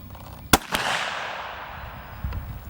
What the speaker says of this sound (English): So let's see what the 17 HMR can do against a fire hydrant.